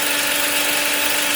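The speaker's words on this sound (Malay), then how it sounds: "Ini sekarang bunyi fan" A Perodua Ativa's engine cooling fan gives a steady, high-pitched whirring hum with a constant tone underneath, spinning fast near the engine, with no pauses.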